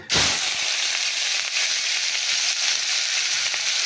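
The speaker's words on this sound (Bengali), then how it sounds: "পেঁয়াজও দিয়ে দিয়েছি এর মধ্যে" Onions dropped into smoking-hot oil set off a loud, close, continuous sizzle that starts with a sudden burst and keeps hissing steadily.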